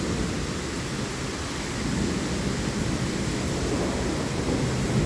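Heavy rain pours down steadily in a rainstorm, a dense broadband roar that swells louder partway through and stays constant, with no voices.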